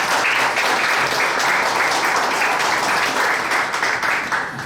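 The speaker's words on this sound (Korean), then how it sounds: "여러분 큰 박수 부탁드리겠습니다" Reporters and guests at a Korean church event committee's press conference applaud loudly and continuously, a thick, even roar of clapping from a roomful of people.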